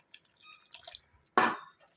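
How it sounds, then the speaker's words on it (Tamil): Tamarind water splashes into a pot of simmering dal sambar on a wood-fired stove, a short liquid pour after a few faint drips and clinks, heard alone. "இந்த டைமில் தேவையான அளவு புளித்தண்ணி சேர்த்துக்கலாம்"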